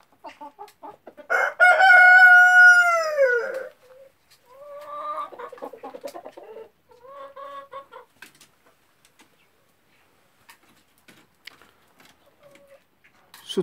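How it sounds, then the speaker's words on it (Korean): A loud, close Araucana rooster crows once in a long drawn-out call, followed by a few softer clucks and short fowl calls from the coop, then quiet. "우렁차게 청계의 수탉이 주인을 맞이하네요."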